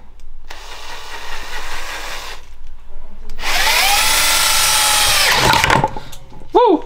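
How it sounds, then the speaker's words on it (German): A power drill whirs in two bursts, drilling a hole into a part on a Volkswagen Golf 2 with a Weber 32/34 carburetor, the second burst bogging down as it bites in, with a brief squeak at the end. "Also wird hier ein Loch gebohrt"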